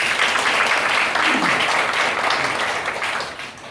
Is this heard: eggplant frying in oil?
no